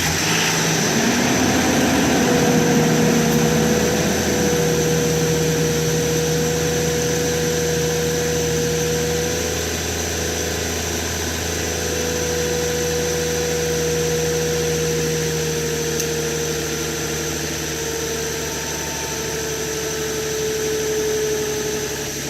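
A 2007 Nissan Frontier pickup engine with a camshaft position sensor fault turns over and settles into a steady, rumbling idle up close, with a faint high whine riding above it; no talking.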